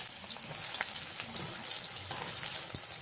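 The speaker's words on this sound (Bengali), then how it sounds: "এবার ওই একই তেলে কেটে রাখা বেগুনগুলো ব্যাচ ওয়াইজ ভেজে নেব।" Cut eggplant pieces frying in a batch in hot oil left over from frying small fish, giving a steady close sizzling hiss with occasional crackles and soft pops throughout.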